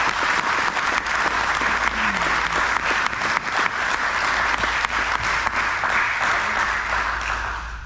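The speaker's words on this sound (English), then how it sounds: "I just want to give them a round of applause." A room full of people at a youth sports team's end-of-year celebration claps in a steady, dense round of applause that holds loud for about eight seconds before easing slightly at the end.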